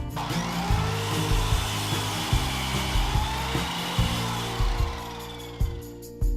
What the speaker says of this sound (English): Once I'd cut the 4x3s, I then cut 2 2x3s.